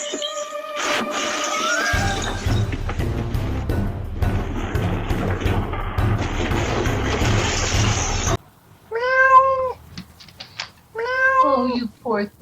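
A cat lets out several clear, close meows in short bursts after a stretch of busy, noisy commotion, the calls standing out alone against a quiet background.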